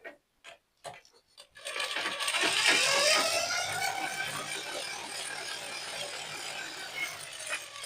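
A sewing machine stitches a blouse after a few sharp handling clicks, then runs steadily and close for several seconds with a rapid mechanical ratcheting whir.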